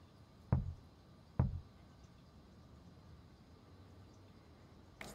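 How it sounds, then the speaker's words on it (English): Two sharp, hollow knocks about a second apart sound in a quiet horror video game, Unheard, followed by low ambient hum and a faint third tap at the end. "What's the knocking for?"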